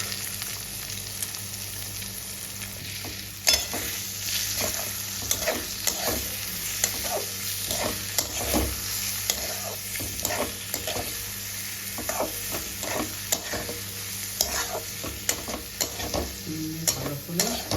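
An egg fries in hot mustard oil in a pan, giving a steady close sizzle. Frequent scraping clicks of a spatula stirring it run through the sizzle.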